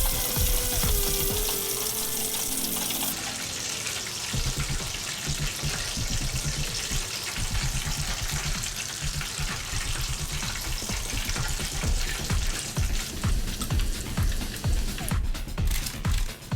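Jalapeño popper eggrolls wrapped in bacon fry in hot oil, a dense, loud, continuous sizzle and crackle close up, with a watery hiss at the start and no talking.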